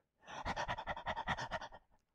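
A voice imitates a panting dog with a quick, even run of about a dozen breathy huffs. It is close and loud, with no other sound, and lasts about a second and a half.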